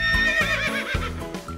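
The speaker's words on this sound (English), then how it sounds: "Horse." A horse gives a single loud, quavering whinny that rises and falls, heard alone and up close in a children's song about animal sounds.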